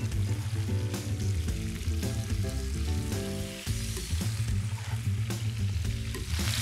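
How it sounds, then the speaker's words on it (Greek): Spinach sautés in a frying pan with a dense, loud sizzle and repeated stirring, while a tonal background layer runs beneath the cooking noise. "θα το ρίξω μέσα στο τηγάνι να το σοτάρω"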